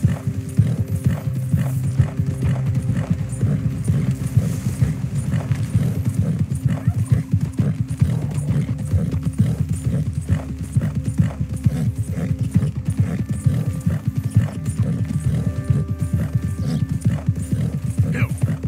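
A horse in the Western video game Red Dead Redemption 2 clip-clops at a steady gallop with constant rhythmic hoofbeats, and whinnies occasionally over a low ambient hum.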